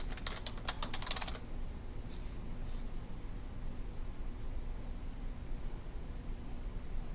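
Quick burst of close computer keyboard typing, a cluster of crisp key clicks lasting about a second, followed by a couple of faint taps and then quiet room hiss.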